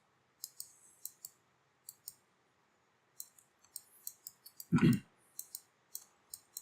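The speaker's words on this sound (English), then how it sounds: "you can left click, middle click, right click, and same with rotation" A computer mouse clicks repeatedly in short crisp bursts, some single and some in quick runs, close and clear over a quiet background, with one brief louder thump midway.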